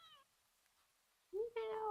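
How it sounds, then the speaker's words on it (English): Cat meowing in a damp alley at night, two short clear meows separated by a near-silent pause, close and distinct. "At the end of the alley, in a big cardboard box, is a cat."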